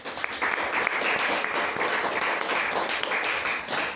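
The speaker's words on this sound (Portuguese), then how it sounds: "Aplauda o Senhor." A church congregation clapping at a Sunday evening service, a steady, fairly close patter of many hands with no speech.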